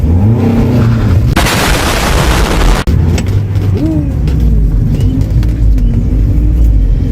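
A salvaged, previously wrecked Mazda Miata runs rough on a drive test, its engine droning loud and steady from start to finish with a burst of broadband noise and a sharp thump partway through.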